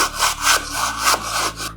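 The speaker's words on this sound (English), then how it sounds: "So Arishna, you may continue sanding the birdhouse." A wooden birdhouse is sanded by hand with steady back-and-forth rubbing strokes, loud and close, about three passes in under two seconds.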